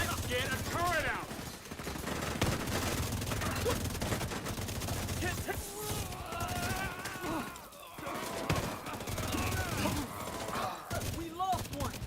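Rapid turret gunfire in a shooter video game, steady bursts running under constant excited voices and game sounds.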